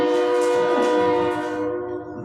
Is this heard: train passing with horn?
yes